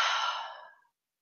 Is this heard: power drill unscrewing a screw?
no